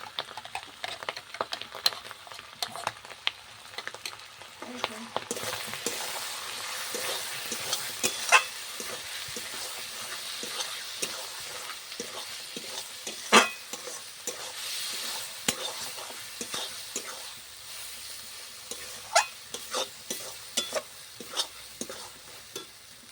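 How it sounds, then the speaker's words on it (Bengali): Ground masala paste frying in a pan for mushroom masala while being stirred, a continuous close sizzle under frequent scraping and clicking spoon strokes that keep a loose, busy rhythm throughout. "এইবার দিয়ে দেব পেস্ট করে রাখা মশলাটা"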